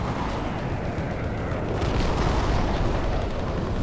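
Tank shells exploding in Battlefield Play4Free, a continuous loud roar of blasts and rumbling with no clear gaps, thick and close.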